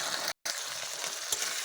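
A spice paste of ground ginger, onion, green chili and cumin sizzles while being stirred and sautéed in oil. A short, steady frying hiss is broken by a brief silent gap.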